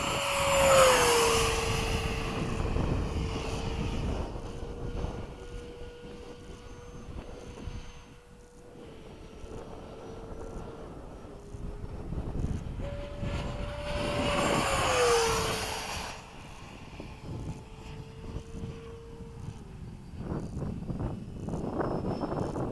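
An F-15 jet flying at sunset, its engine roar swelling to two loud passes with a whining tone that drops as it goes by, fading in between, heard alone without talk.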